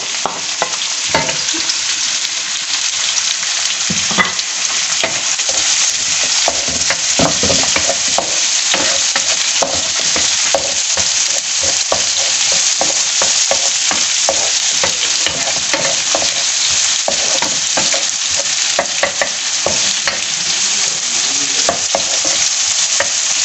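Onions sizzle loudly in a pan with golden cumin seeds, a continuous dense crackle broken by frequent scraping strokes of a spoon stirring, close and unbroken for over twenty seconds.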